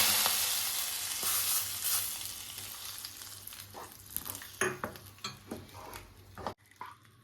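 Kashmiri chili powder is stirred into brinjal masala in a pan on a stove that has just been turned off, producing a soft sizzle that fades under clinking, scraping stirs.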